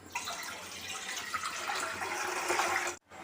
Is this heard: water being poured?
yes